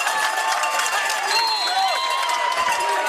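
A high school junior varsity basketball crowd in a gym keeps up a steady wash of chatter and cheering, with faint squeaks of sneakers on the court, continuous and moderately loud throughout.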